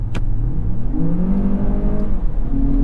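A 2023 Lexus RX SUV engine revs up close, its pitch climbing steadily as it accelerates, with a throaty low drone underneath.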